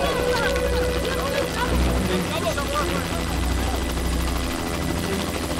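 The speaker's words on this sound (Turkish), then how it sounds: "Helikopterin sesinde bir tuhaflık var sanki." Military helicopter flying overhead near a hidden mountain camp, a steady loud rotor thump and engine drone filling the scene, with voices and other sounds underneath.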